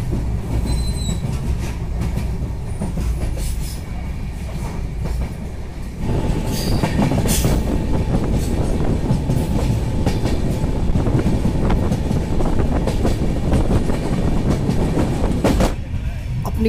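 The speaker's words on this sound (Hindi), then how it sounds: "अपनी ट्रेन लग रही है मऊ जंक्शन के प्लेटफॉर्म संख्या एक पर।" The 12166 Gorakhpur–Mumbai Ratnagiri Superfast Express rolls into platform one at Mau Junction, a loud, continuous rumble of coaches with rhythmic wheel clatter and brief wheel squeals.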